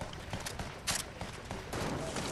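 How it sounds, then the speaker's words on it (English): Rapid, dense shooting in a video game firefight, a short stretch of overlapping shots with one sharper, louder crack near the middle. "Where are they shooting from?"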